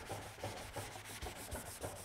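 A black oak wood finish is rubbed by hand with sandpaper in steady back-and-forth strokes, giving a soft, rhythmic scratching of about seven passes.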